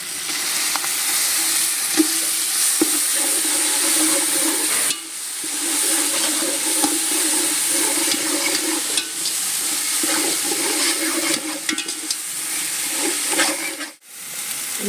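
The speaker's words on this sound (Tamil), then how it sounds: "இஞ்சி பூண்டு பேஸ்ட் பார்த்திங்கன்னா நல்லா எண்ணெயில் வணங்கி" Ginger garlic paste frying in hot oil for chicken biryani gives a steady, close sizzle that runs throughout, broken by occasional stirring scrapes.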